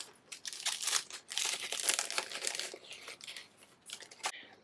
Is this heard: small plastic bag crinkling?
yes